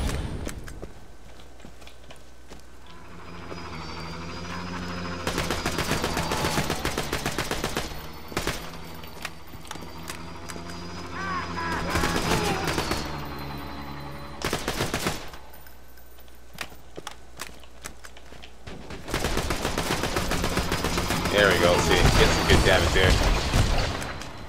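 Bursts of rapid automatic gunfire from a weapon aimed at a buzzard aircraft in Borderlands 2, coming in several loud, dense volleys separated by quieter gaps with game ambience.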